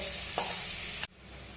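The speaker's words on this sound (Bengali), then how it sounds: "এবার আমি নাড়তে যাবো।" Butter-coated potatoes being stirred in a pan for paneer masala: a steady close sizzle with brief scraping swirls of the spoon, then the frying noise suddenly drops lower near the end.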